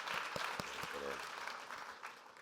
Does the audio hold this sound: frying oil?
no